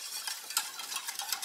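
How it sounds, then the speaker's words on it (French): A spoon stirs béchamel sauce in a saucepan, making quiet, quick scraping strokes in an irregular rhythm, with no voices. "on tourne en permanence jusqu'à ce que notre béchamel prenne une belle consistance"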